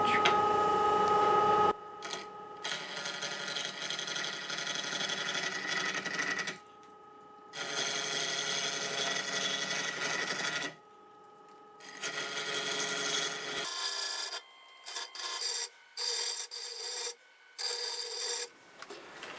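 A 1/2 inch bowl gouge cutting a segmented wood piece spinning on a lathe, a loud continuous rasping hiss in long bursts broken by pauses, then shorter intermittent cuts at the end.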